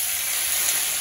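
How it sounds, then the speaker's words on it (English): Fresh baby spinach sautéing lightly in a pan, giving off a bright, steady hiss of sizzling that holds constant and close throughout with no voices. "we're going to saute it lightly in the pan so that it cooks really nicely. It's going to sizzle a bit."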